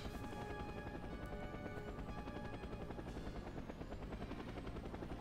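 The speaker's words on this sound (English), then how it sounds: "It's the big fucking helicopter on fire." A burning helicopter hovers in a superhero video game, its rotor thumping in a loud, steady, rapid chop that fills the scene with no talk.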